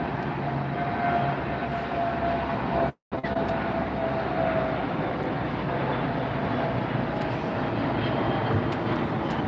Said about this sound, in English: 767 landing on the north side, just coming in. That's a 300 ER coming in from JFK.